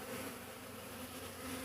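Honeybee swarm buzzing, a dense continuous drone of many wings, steady and fairly faint, with no voices.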